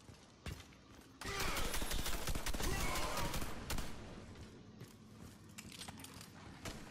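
Gunfire in the shooter game Red Faction Armageddon: a loud, dense burst of rapid shots erupts after about a second and rattles on for several seconds before thinning into scattered cracks and clicks.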